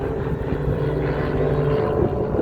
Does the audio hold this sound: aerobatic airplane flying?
yes